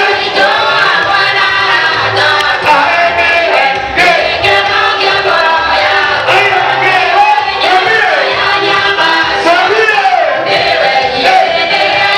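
Wedding guests cheer, whoop and shout for the transport manager as a loud, dense crowd roar that runs without a break and is layered with yells.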